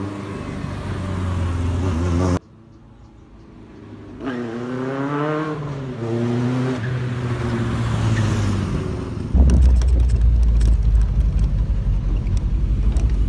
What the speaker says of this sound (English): There's a beefy 26 horsepower motor.